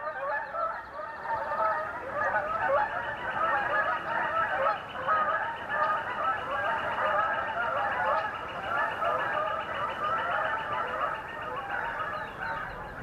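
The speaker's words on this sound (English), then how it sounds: "The Canada geese are on the move." Canada geese on the move honk continuously in a dense, overlapping chorus, loud and steady throughout with rhythmic calls from many birds.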